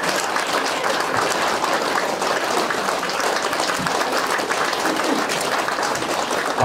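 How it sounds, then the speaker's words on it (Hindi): Sustained crowd applause at a Nepali-language honouring ceremony, a continuous rain-like wash of many hands clapping, steady and loud throughout with a brief swell at the end. "जोरदार तालीले सम्मान गर्न चाहन्छु"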